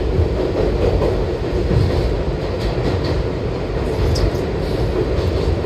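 A New York City subway train rides between Long Island City and the Upper East Side, its car from about 1998 giving a loud, steady rumble with rail clatter throughout, no voices.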